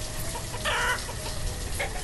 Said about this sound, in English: Chickens are going crazy. Clucking.